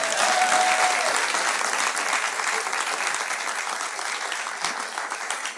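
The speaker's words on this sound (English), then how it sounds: "Well, you can't see, but you should be clapping" Studio audience applause on a talk show, dense, loud continuous clapping from a crowd that holds steady throughout, with a few voices briefly audible in the mix.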